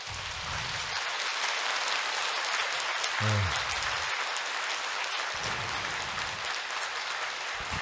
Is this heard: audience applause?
yes